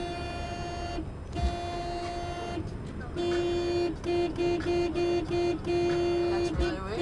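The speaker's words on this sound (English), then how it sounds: "I can't honk and turn at the same time." A faltering car horn honks repeatedly in long and short bursts, loud and close, with brief gaps between blasts and a low background hum.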